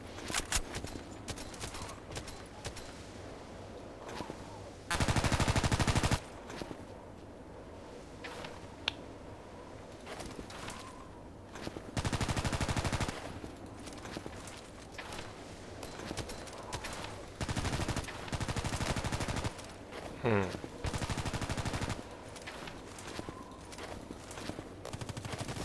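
Airsoft gunfire from a teammate shooting at an opponent, short bursts of rapid snapping shots at intervals against a quiet outdoor background.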